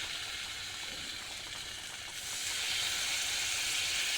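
Cumin powder and ginger paste frying in a pan, a dense, continuous sizzle and hiss that swells louder partway through, close up and steady, with no voices.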